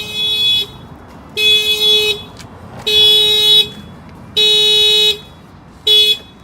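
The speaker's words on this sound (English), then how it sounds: "This is a shock sensor add-on to the factory alarm system." Factory alarm on a Honda HR-V, set off by an add-on shock sensor, blares in five loud, steady electronic bursts with short silent gaps between them, heard close with no talking.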